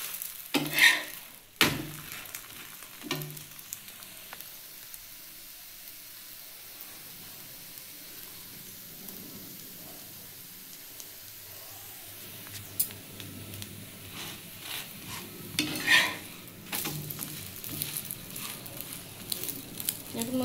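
Dalia paratha frying in a pan over low heat, a faint low sizzle with a few scattered scrapes and taps of a spatula near the start and end, quiet and close.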